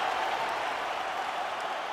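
Steady wash of crowd applause and cheering in the UFC 5 video game on PS5 after a full-length openweight bout, a continuous, even roar heard alone without commentary over it.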